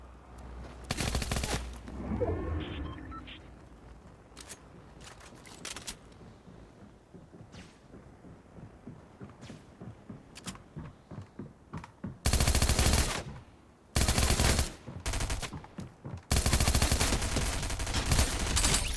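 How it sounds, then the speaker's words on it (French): Bursts of automatic gunfire in a Fortnite match, with scattered single shots building into loud, dense volleys that come and go in several long rapid-fire stretches. "Alors, on entend les tirs."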